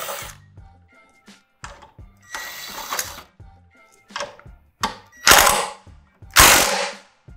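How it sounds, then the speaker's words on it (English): An impact gun fitted with a 13 mm socket and extension backs bolts out of a Praga Cadet kart, firing in short rattling bursts separated by pauses, the last few bursts louder and closer. "right now I'm using a 13 millimeter with an extension on an impact gun"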